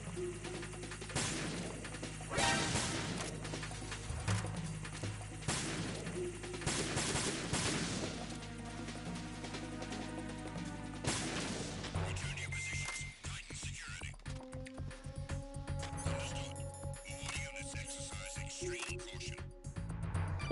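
Gunfire in the Metal Gear Solid 2 tanker level, with bursts of shots and impacts across the first half, then quieter game sounds and tones; no one speaks.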